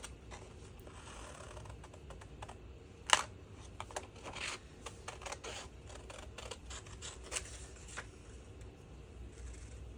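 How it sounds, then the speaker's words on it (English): Sharp scissors snipping through paper for a junk journal, an irregular run of crisp close cuts with one louder snip early on, set against a quiet room. "I'll take the sharp scissors."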